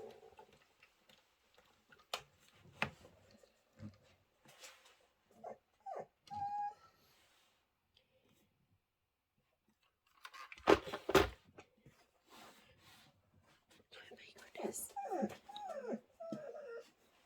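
A small dog named Momo whimpering and yipping for food in a sewing room, thin high whines and soft yelps in scattered bursts, faint and close, with a ticking clock and quiet gaps between.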